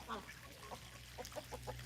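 Pet ducks at a backyard pond give a few short, nasal quacks in quick succession, fairly close and moderately loud over a steady low background hum.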